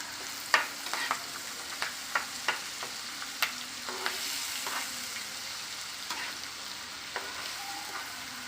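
Masala paste and curry leaves frying in oil, a steady close sizzle broken by repeated spoon scrapes and clinks as the mixture is stirred, with no voices.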